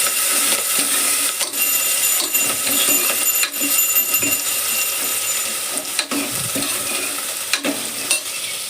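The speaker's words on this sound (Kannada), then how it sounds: "ಎಲ್ಲ ಐಟಮ್ಸನ್ನು ಫ್ರೈ ಮಾಡಬೇಕು ಎಣ್ಣೆಗಾಕಿ" Cumin, mustard seeds and other ingredients fry in oil for kara pongal, giving a continuous close sizzle with scattered clicks of a spoon stirring against the pan and no voices.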